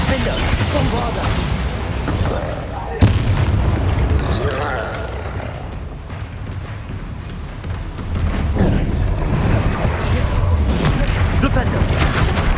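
Booming Bombarda spell explosions in the video game Hogwarts Legacy, a sharp blast followed by rumbling bursts and crashes amid ongoing combat sounds, with a voice speaking over them.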